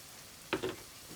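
Ginger garlic paste dropped into a hot pan in a soya chunks curry sizzles faintly in two brief bursts, a short quiet crackle of frying.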